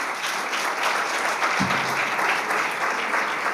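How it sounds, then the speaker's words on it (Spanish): An audience at an innovation conference applauds the keynote speaker, continuous full applause from many hands with a short low thump partway through. "recibamos con un fuerte aplauso a nuestra key speaker, Patricia Murrieta"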